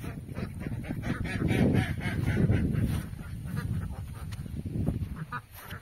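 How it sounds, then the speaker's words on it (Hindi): A flock of ducks calls continuously in a noisy, overlapping chorus of honks and quacks, steady and fairly close, with no talking, at Pansua Dam, Sonua, West Singhbhum, Jharkhand. "पूरा बत्तख उत्तख सब इधर आ गया है"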